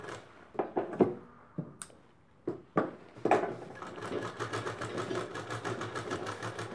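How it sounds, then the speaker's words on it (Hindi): Sewing machine stitching around the edge of a handmade potli bag, a few quiet clicks and taps at first, then a steady, fast mechanical chatter that runs on close by and fairly soft, with no talk. "इसमें हमें सिलाई चला लेना है बिल्कुल किनारे किनारे"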